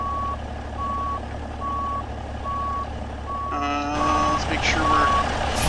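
Reversing truck backing up to hook a trailer, with evenly spaced loud backup beeps repeating about every three-quarters of a second over engine rumble, a hiss of air joining near the end while someone speaks briefly.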